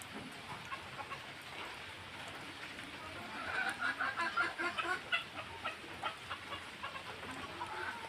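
Chickens cluck in short bursts over a steady wash of rain, moderately near, with faint background talk.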